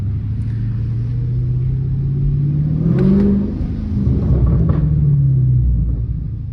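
A Dodge Scat Pack on a test drive, its engine droning steadily up close, with a rev swell and a few sharp exhaust pops and crackles near the middle and again toward the end.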